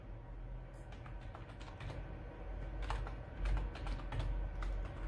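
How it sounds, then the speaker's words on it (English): Keystrokes on a computer keyboard as a router username and password are entered at a login screen, a steady run of close, moderately quiet clicks over a low background hum with no talking. "So I will type mine and"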